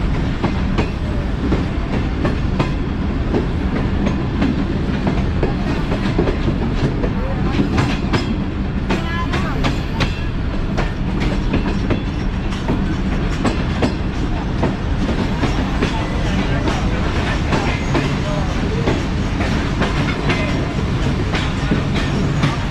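Steady rail rumble and rhythmic wheel clatter fill the cabin of the Baba Fareed Express as it nears Khanpur Junction, loud and continuous, with a few brief metallic ticks and no clear speech.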